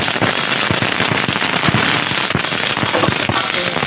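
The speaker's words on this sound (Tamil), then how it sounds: "பாருங்கள் கடுகு நல்லா வெடிச்சிருச்சு" Mustard seeds tempering in hot oil, a dense, loud stream of sharp popping crackles bursting continuously and close up without pause.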